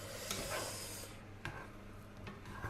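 A spoon or spatula stirs a side dish for rump steak in a pan, a soft scraping and sizzling texture with a few brief scrapes against the pan, close and fairly quiet.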